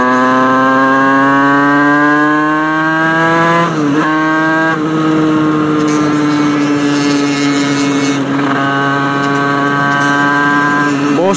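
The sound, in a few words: Yamaha YZF 125 4-stroke motorcycle engine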